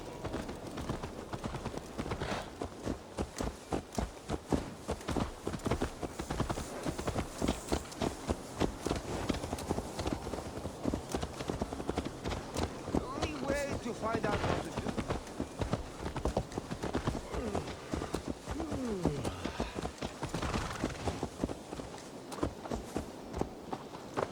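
Horse hooves in Assassin's Creed Valhalla, a steady clip-clop of a horse walking and trotting that runs the whole stretch at moderate level, with faint game ambience behind and no clear talk.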